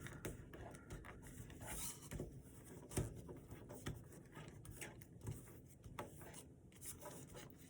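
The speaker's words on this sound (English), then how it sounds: "Now you're going to take this flap and fold it over." Sheet paper being folded and creased into a Sukhoi SU-57 Felon paper plane, with close, soft rustling and scraping crinkles scattered through the stretch and a few sharper creasing snaps, no voice.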